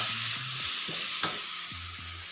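Vegetable curry with tomatoes sizzling in a pan, a steady frying hiss with a spoon scraping and stirring in short repeated strokes and one sharp clink.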